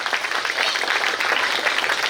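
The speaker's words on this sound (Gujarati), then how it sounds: "ફરી એકવાર જોરદાર તાળીઓ" An audience at a school annual function claps loudly and steadily, a dense wash of applause with no voices over it.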